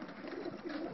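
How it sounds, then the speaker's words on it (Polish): Domestic racing pigeons at a loft in Gdynia Chylonia give soft, continuous low cooing and murmuring, close and steady throughout the second, with no talk. "Tu są moje gołębie i Krzycha"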